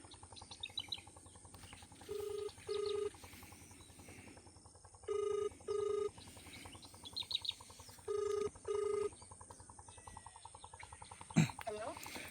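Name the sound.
telephone dialing and ringing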